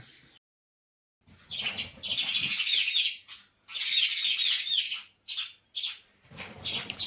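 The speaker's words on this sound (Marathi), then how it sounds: "आता घरात चिमण्या आल्यात इथं" House sparrows chirp indoors in rapid, busy bursts, close and fairly loud, broken by short quiet pauses.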